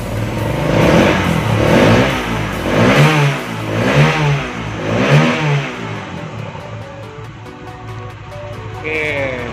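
A motorcycle engine is revved repeatedly during an RPM test of a GPX digital speedometer: loud, close rising and falling throttle blips in a regular rhythm, then settling into a rougher idle with some clatter.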